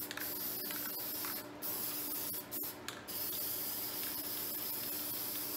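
Rust treatment sprays from a can onto a 1953 Chevrolet in a steady, close hiss, with a few brief pauses between bursts and no talking.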